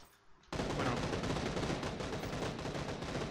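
Dense, continuous gunfire in PUBG on Xbox One, an arena-mode battle royale match, bursting in loudly after a brief quiet start and rattling on without pause as overlapping shots.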